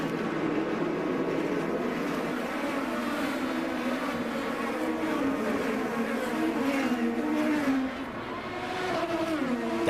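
IndyCar race cars at the start of the Honda Indy Toronto street race, a dense continuous roar of many engines from a distance, pitch shifting as the field passes, loud and unbroken.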